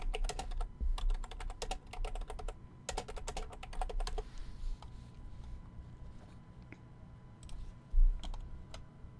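Rapid bursts of computer keyboard typing, clicking in quick clusters, then sparse single keystrokes; close and moderately loud over a low room hum, with no talk.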